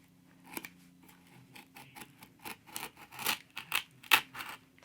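Scissors snip into the pages of a book being altered, a run of small, quiet, close-up cuts and paper rasps that come faster and louder toward the end, with no talking.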